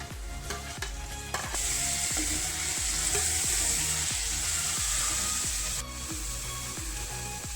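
Onion and tomato fry in a pan with curry leaves, a loud continuous sizzle broken by regular rhythmic scraping knocks of a spoon stirring against the pan, close and without talk.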